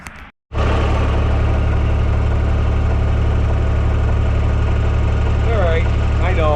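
A tractor engine starts and then idles steadily, a loud, close, continuous low rumble with a faint knock that runs throughout, and a voice speaks briefly over it toward the end.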